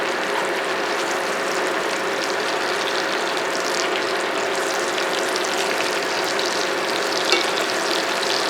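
Shrimp wontons brown in olive oil with a loud, even sizzle and crackle that holds steady from start to finish.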